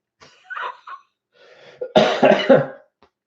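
A man suffering a persistent cough lets out a few short throat-clearing coughs followed by a louder burst of harsh, close coughing.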